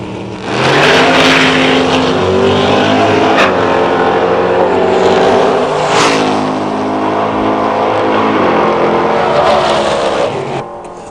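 A 67 Camaro and a 63 Chevy drag racing, engines roaring loudly and continuously as they accelerate hard down the strip, pitch climbing through gear changes before fading slightly at the end.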